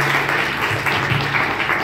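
Congregation at a Sunday church service claps to welcome a first-time visitor, a loud, continuous wash of applause filling the room, with a faint low hum underneath.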